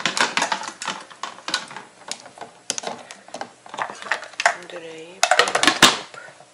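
Plastic tongs clatter against baby bottles being sterilized in a home kitchen, a busy run of sharp clicks and knocks. Someone speaks briefly between them.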